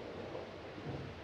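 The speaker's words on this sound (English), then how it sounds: "Storm's just as bad as ever, isn't it? Worse." Rumbling thunder and storm noise from outside an old house form a low, continuous, muffled wash at a faint, steady level.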